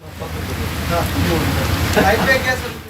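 Rain from Cyclone Remal falls on the Bangladesh coast near Kuakata, a steady wash of drops and patter running beneath a voice for the whole stretch.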